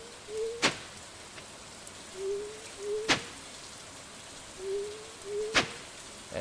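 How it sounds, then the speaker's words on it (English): Stardew Valley rainy day: a soft steady patter of rain with sharp, loud drop ticks about every two to three seconds, plus faint repeated hooting calls, no talk. "And it's raining today,"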